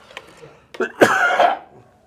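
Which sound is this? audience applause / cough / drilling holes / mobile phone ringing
cough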